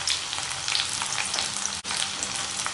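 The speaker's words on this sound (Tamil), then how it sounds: "வெங்காயம் பூண்டு எல்லாமே நல்லா வதங்கட்டும்" Onion and garlic sauté in a pan with ginger and dried red chillies for a spicy chutney, giving a loud, even crackling sizzle with one brief dip in the middle.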